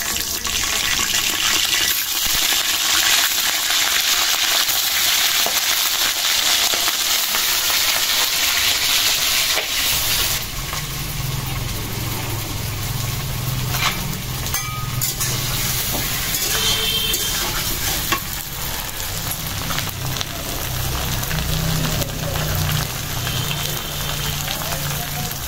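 Large freshwater prawns go into hot oil, starting with a loud, bright sizzle that then settles into a lower bubbling fry with scraping and stirring noises over it.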